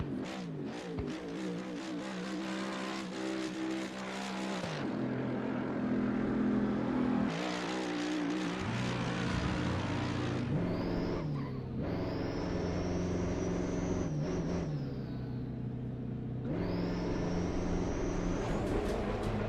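A Mercedes-AMG race car in the Assetto Corsa Competizione racing game, its engine revving high and dropping through repeated gear shifts and throttle lifts, a loud, continuous howl with no talking.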